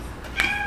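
A house cat lets out a short, high meow partway through, close by, over a low hum of room noise.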